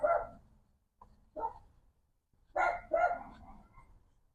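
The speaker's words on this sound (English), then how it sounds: "Don't mind the dog barking." A dog barking outside, a few sharp barks spaced irregularly then a quick double bark, moderately distant and clear, with no talking.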